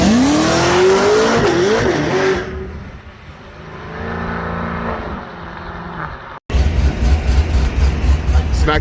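A drag race car engine revving hard and bouncing off the rev limiter, a loud rising whine that cuts out, then a brief silence before a rough, pulsing engine roar returns.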